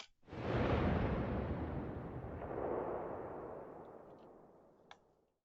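A shared sniper rifle shot tail from The Outer Worlds 2 booms and rolls out as a long, heavy rumble, fading slowly over about five seconds and ending with a faint click, with no other sound.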